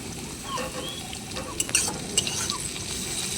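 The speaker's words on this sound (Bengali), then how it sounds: "এখন নেড়ে চেড়ে একটু ভেজে নেব। পেঁয়াজের সঙ্গে কারি পাতা আমি কিছুক্ষণ হালকা করে ভেজে নিয়েছি।" Onion and curry leaves with chopped green chillies fry in a pan while being stirred for poha, a soft steady sizzle broken by a few sharp clinks of the spatula against the pan.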